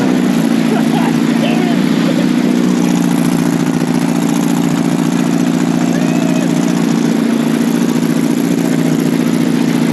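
A 3-cylinder engine on a Samurai mule with a Chevy 350 runs at a steady, loud, close idle with a constant low drone for the full ten seconds.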